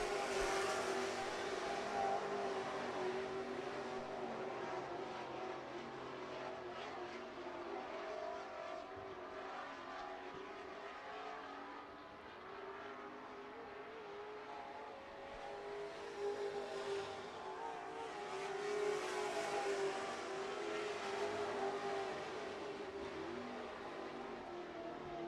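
Pure and super stock cars roar around the Miller Central Speedway oval in a continuous engine drone that swells and fades as the pack passes at middle distance.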